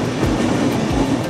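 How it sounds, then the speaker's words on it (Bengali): The Chilahati Express, a long passenger train, runs on rails, heard from on board as a close, steady rumble with rhythmic clickety-clack beats from the wheels. "চিলাহাটি এক্সপ্রেস ট্রেন আমরা ধরলাম"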